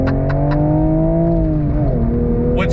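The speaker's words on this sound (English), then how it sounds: "I got one more on-throttle experience for you." A 2023 Toyota GR Supra with a manual gearbox drones on throttle, a sustained close engine note held steady for a few seconds without talk.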